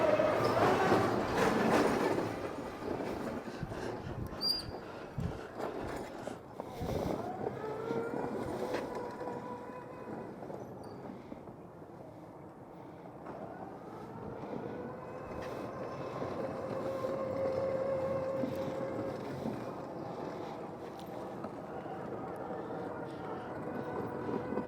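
Tesla Cyberquad kids' electric quad running at full power, about 10 mph, on concrete: a steady whirring electric drive and rolling wheel noise, fairly near, rising and easing as it circles around, with no talking.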